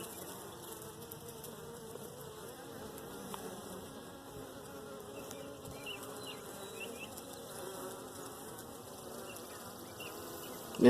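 Honeybees in an opened hive split buzz as a steady, dense hum that stays even and fairly close throughout, with no speech, and a brief knock at the very end.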